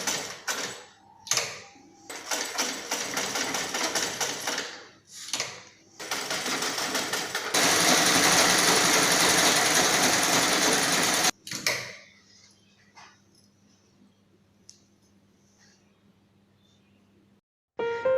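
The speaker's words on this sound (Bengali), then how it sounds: "এই পদ্ধতি অবলম্বন করে শিবাস এখন স্বাচ্ছন্দ্যে মেশিন চালিয়ে ব্যাগ তৈরি করছে।" A modified sewing machine stitches bags in bursts of loud, fast mechanical chatter, with a long continuous run in the middle, then stops and leaves a quiet room hum.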